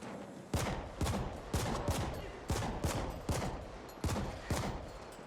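Gunfire in The Ascent rings out as a steady sequence of about ten sharp, evenly spaced shots, each with a short echoing tail, over a constant background hum.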